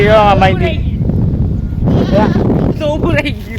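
A goat bleats loudly several times nearby, quavering calls at the start, middle and end, with a person talking over and between the cries.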